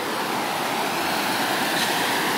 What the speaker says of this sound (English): This Virgin River that you see right here,